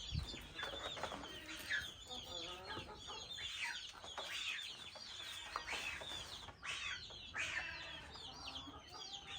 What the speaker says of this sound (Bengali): আমাদের দেশি মুরগিগুলো দেখো এই যে মোরগ এটা দেশি মোরগ